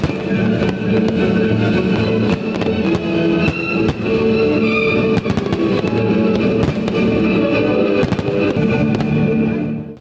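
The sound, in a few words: fireworks on Bastille Day in France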